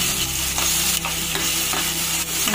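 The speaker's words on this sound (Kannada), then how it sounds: "ಎಣ್ಣೆಯಲ್ಲಿ ಚೆನ್ನಾಗಿ ಹುರಿಬೇಕಿದು." Onion, green chilli and cumin frying in hot oil, a continuous close sizzle broken by regular scrapes of a spoon stirring the pan, with no voices.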